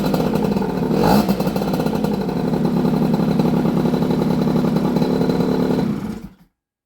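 Honda Bosozoku scooter engine running with the choke off, a loud steady close-up putter with a rattling clatter, one brief surge early on, then a sudden cut to silence.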